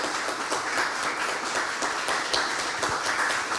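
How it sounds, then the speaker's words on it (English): A lecture audience gives a speaker a final round of applause, even and sustained clapping from a moderate-sized room at a steady level throughout. "please join me in the final applause to our speaker."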